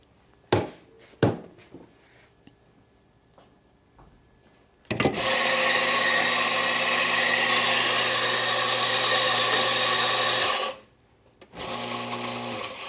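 Espresso coffee grinder purging at a slightly coarser setting: after a few sharp clicks and taps, a loud, steady grinding whir runs for about six seconds, stops, then briefly starts again, close by with no talking.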